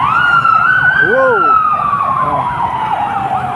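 Fire truck sirens wail at a large fire in Tondo, Manila, loud and close, with overlapping rising and falling tones and a yelp pattern, and a voice exclaims briefly.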